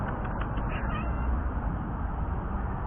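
A cat meows a few times close to the microphone, the calls set against a loud, constant low rumble that blankets the whole stretch.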